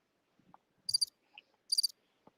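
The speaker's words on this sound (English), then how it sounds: "Hit the crickets." Crickets chirp in two short, bright trilling bursts separated by a pause, with faint scattered clicks in an otherwise quiet background.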